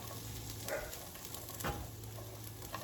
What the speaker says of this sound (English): we're just gonna sear this a little bit